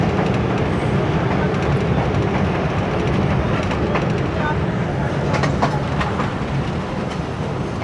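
A passenger train on a cloudy-weather run from Lahore to Malakwal via Lalamusa brakes suddenly, heard from inside as a loud, continuous rumbling roar with rail clatter and faint squealing, sustained throughout.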